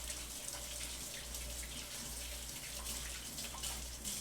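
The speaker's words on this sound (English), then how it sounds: "I got to rinse my hands here" Tap water running steadily over hands being rinsed at a home kitchen sink, a continuous close hiss and splash with faint spattering, no voices.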